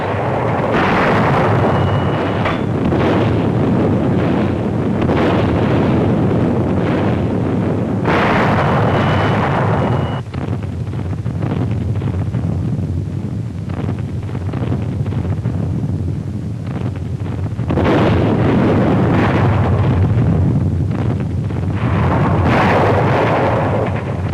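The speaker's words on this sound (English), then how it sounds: "The naval bombardment continues." Naval guns bombarding the Normandy coast on D-Day, a continuous heavy rumble of distant explosions and artillery fire with wind-like roar, swelling in waves over the whole stretch with no speech.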